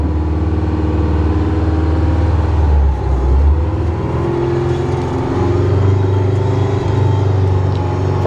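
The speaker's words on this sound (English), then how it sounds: "We'll go ahead and pull this thing out the gate and take you guys for a little spin in it." An Oshkosh M1070 HET 8x8 heavy military truck pulls out through a gate and drives off, its big diesel engine rumbling loud and close with shifting revs and a steady deep drone.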